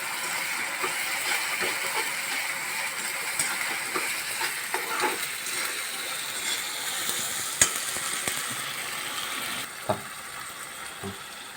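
Ground masala paste being sautéed in a pan for a jackfruit curry gives a steady soft sizzle and frying hiss, with occasional scrapes and clicks of stirring, close and continuous without talk.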